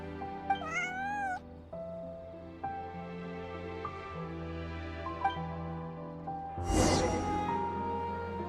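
A cat in the video game Genshin Impact gives a short rising meow over soft, sustained game music, then a louder, longer meow near the end.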